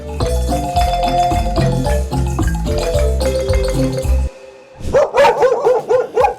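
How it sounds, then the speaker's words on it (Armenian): Music plays at first, then cuts off and several dogs bark in a rapid run of sharp yaps nearby. "Երեխեք, ում վրա եք հաչում։"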